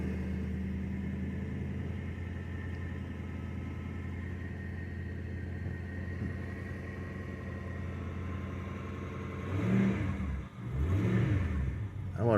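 A cold Ford Crown Victoria V8 runs rough and steady, then gets a few short revs near the end, swelling louder before dropping back to idle.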